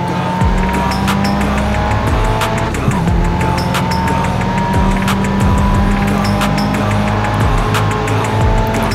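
In the GRID Autosport racing game, a street race car's engine roars continuously while its tires squeal and skid under heavy braking, loud and up close throughout.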